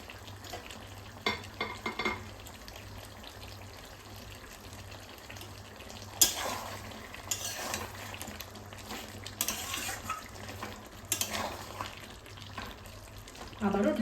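Chicken and potato curry sautéing in a pan, with steady low sizzling and occasional bursts of stirring and scraping throughout, recorded close and fairly quiet.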